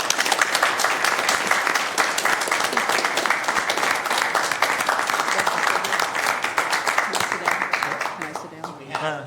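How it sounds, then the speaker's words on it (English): Attendees at a Sacramento cable television commission meeting give a big round of applause, close, dense clapping with sharp individual claps sustained for several seconds before dying away. "big round of applause"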